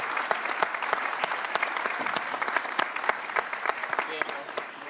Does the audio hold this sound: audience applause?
yes